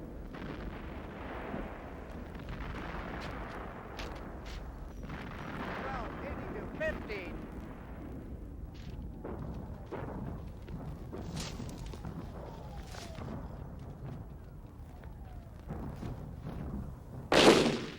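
WWI artillery shots bursting at a distance, several dull booms spread across a long stretch with a sharper burst near the end, heard over a low steady background rumble.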